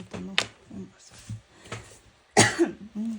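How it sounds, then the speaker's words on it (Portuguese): A person gives a few short, small coughs and throat clears, close and fairly loud, spaced over a few seconds, with a brief spoken word in Portuguese among them. "tossinha."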